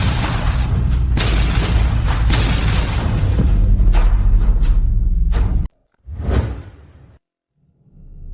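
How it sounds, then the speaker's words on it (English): A gunpowder explosion goes off as a loud, sustained whooshing roar with a heavy boom. It lasts over five seconds, cuts off abruptly, then a shorter swelling burst follows before the sound fades out. "the gunpowder explosion seriously injured Prince Ethan."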